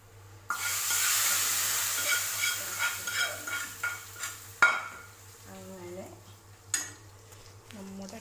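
Hot tempered mustard seeds hit an onion curry with a sudden loud sizzle that fades into steady frying, then a spoon stirs and scrapes against the pot in irregular clinks.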